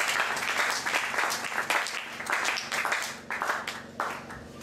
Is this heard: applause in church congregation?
yes